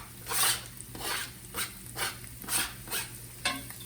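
Chopped garlic scraped into a pot of cooking carrots and onions for beef stew, giving a series of six or seven soft rasping, scraping strokes in a steady rhythm, close and fairly quiet, with no talk.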